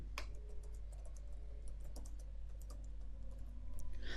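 Mouse clicks and keyboard tapping on a computer while working in LibreOffice Writer, a steady run of small close clicks over a low hum, with no talking.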